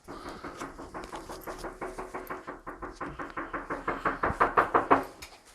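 Police banging on a house door, a long steady run of heavy knocks repeating at a fast, even rhythm and growing louder toward the end, close and forceful with no talking.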